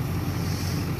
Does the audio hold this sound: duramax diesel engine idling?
yes